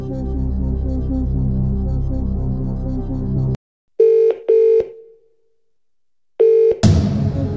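A phone-a-friend call in the Who Wants to Be a Millionaire video game: a low musical sting cuts off, then three loud, clean telephone tones sound in short bursts, with a gap before the last and a brighter sound that follows.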